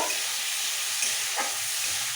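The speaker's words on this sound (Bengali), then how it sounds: "হালকা করে চিংড়ি মাছগুলো ভেজে নেব" Shrimp fry lightly in a pan with oil, a dense, continuous close sizzle with faint stirring touches.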